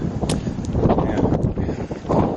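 Breezy outdoor wind gusts buffet the microphone in a loud, uneven roar, with faint rustling and small knocks through the short stretch.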